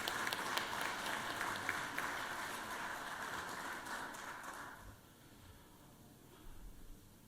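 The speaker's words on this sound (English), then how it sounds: "Let's give Mr. Robert Brown a round of applause again" A round of applause fills the Georgia Senate chamber during a session, steady dense clapping heard from some distance that fades away after about five seconds, leaving quiet room tone.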